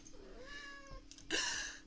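A house cat lets out a single drawn-out meow close by, rising and then falling, followed by a brief rustle.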